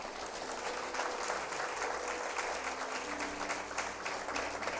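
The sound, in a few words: congregation applauding the Lord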